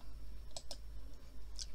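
Computer mouse clicks, a few sharp, quiet taps spaced irregularly over a low room hum, heard alone without talking.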